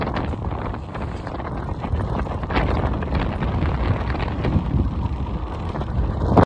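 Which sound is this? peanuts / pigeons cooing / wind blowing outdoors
wind blowing outdoors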